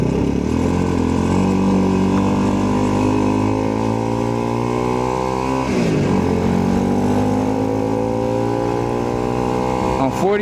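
A motorcycle engine drones steadily and loudly during a ride, its pitch rising and falling with shifts in speed and slight revving. Wind adds to the noise, and a voice speaks over it.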